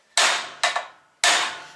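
A hammer strikes a Mazda CX-7 front wheel bearing being fitted without a press: three sharp, loud metallic blows with short decaying rings, the second followed by a quick rebound tap.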